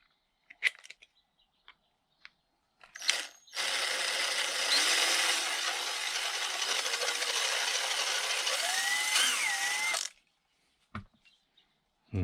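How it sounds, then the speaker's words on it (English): A handheld power drill bores a small hole in a Toyota Highlander door handle: a few taps and clicks, then one sustained, steady high whine for about six seconds whose pitch shifts as it cuts, followed by handling clatter. "I'm just going to drill a small hole"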